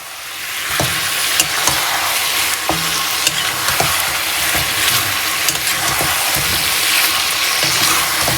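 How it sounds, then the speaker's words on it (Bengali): Spice masala is sautéed in a pan with strained yogurt, a loud continuous sizzle and frying hiss with regular scraping strokes of a spatula stirring the mixture, no voices. "দিয়ে দিয়ে পরে অনেকক্ষণ ধরে কষাতে হবে।"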